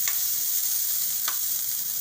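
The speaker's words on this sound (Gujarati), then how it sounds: "ડુંગળીને આપણે થોડીક વાર સળવા દઈશું તેલમાં" Onion sizzles steadily in hot oil, a close, even frying hiss with a couple of faint clicks, no voices.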